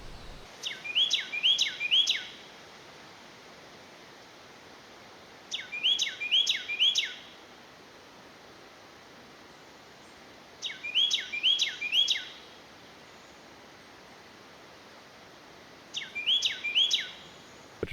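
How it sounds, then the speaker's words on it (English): A Carolina wren in Calvert County, Maryland, sings repeated bright rolling phrases, four clear bursts spaced a few seconds apart against a quiet outdoor backdrop. "There's a Carolina wren singing his little heart out up there."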